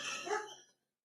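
A single fairly faint bark or yelp from a female Cane Corso flock guardian dog, trailing off quickly with no other sound around it.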